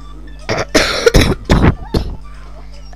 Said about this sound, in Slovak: A prepáčte, že kašlem